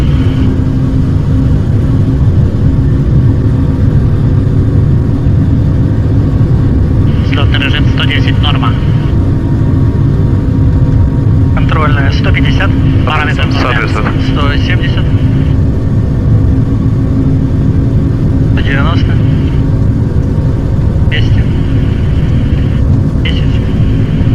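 Four engines of an An-124 Ruslan cargo jet at takeoff power, heard from inside the cockpit as a loud, steady roar throughout, with crew voices calling out over it at intervals.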